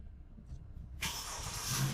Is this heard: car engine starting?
yes